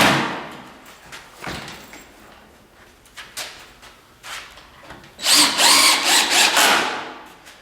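Power drill driving zinc screws into a custom 8x14 penthouse chicken coop: scattered knocks and short bursts, then a loud, sustained run of the drill near the end, close by, with no talk.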